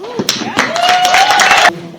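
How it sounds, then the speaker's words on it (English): Applause at a women's day solidarity gathering: a loud burst of clapping with some thuds that swells for over a second, then cuts off, with voices talking and a sustained tone heard through it. "Oh yeah, she can have an applause."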